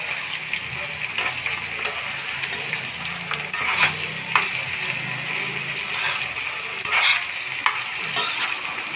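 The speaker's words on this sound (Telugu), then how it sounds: "మొత్తం ఆయిల్ అంతా ఈ ముక్కలు పట్టేట్టు కలుపుకుంటే అప్పుడు అన్నీ సమానంగా ఫ్రై" Bitter gourd pieces stirred in hot oil: a continuous soft sizzle broken by several sharp scraping strokes of a spoon against the pan, close and clear, with no talking.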